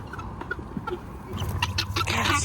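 Chickens on a hay farm cluck in a loose, irregular series at close to mid range, the calls growing busier and louder toward the end over a steady low rumble, with no talking.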